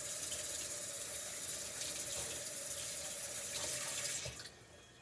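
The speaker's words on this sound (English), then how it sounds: "I'm going to run it under water." Tap water runs steadily from a faucet over two slices of white bread in a home kitchen, a constant close splashing hiss that tapers off as the flow is shut at the end.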